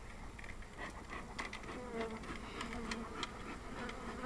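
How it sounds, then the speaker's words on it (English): A dense, steady buzzing of many honey bees at a hive inspection fills the air close by, with faint scattered ticks and no talking. "These bees ain't like the other ones that was at the last orchard up there at El Paso"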